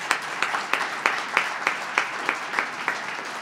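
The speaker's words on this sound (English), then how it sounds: "While I appreciate the applause" During a Black History Month program, an audience applauds steadily, the clapping rising and falling in a rhythmic, evenly paced swell at moderate distance in a hall, with no talk over it.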